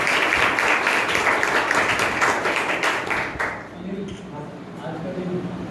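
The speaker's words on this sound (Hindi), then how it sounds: "उनका जोरदार तालियों से स्वागत करते हैं" Enthusiastic clapping welcomes guides onto the stage at a school Teacher's Day celebration, strong at first, then thinning and fading after about three and a half seconds into a quieter murmur.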